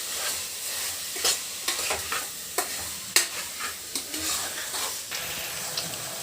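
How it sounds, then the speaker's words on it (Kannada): Pulao is stirred in a pot, with repeated sharp scrapes and clinks of a spoon against metal over a soft background sizzle, close and fairly quiet. "ಅದನ್ನೊಮ್ಮೆ ಚೆನ್ನಾಗಿ ಮಿಕ್ಸ್ ಮಾಡಿಕೊಳ್ಳುತ್ತಿದ್ದಾರೆ."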